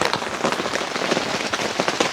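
Heavy rain pours at Chandava Lake in Cavinti, Laguna, a loud, dense hiss with sharp patters from drops striking close surfaces, continuous and without voices.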